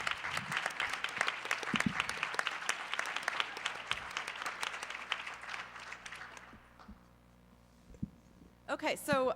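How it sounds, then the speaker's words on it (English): A conference audience gives a speaker a big round of applause, many hands clapping at once for about six seconds before the sound thins out and dies away, followed by a brief voice at the end. "Let's give her a huge round of applause."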